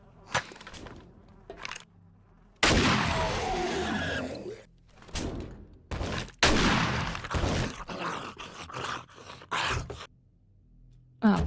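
Gunfire at zombies in the video game 7 Days to Die, several sharp loud shots and bursts scattered irregularly among short silences, mixed with gasps and thuds.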